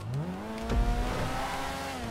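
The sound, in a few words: supercar engine revving in GTA 5 Online, video game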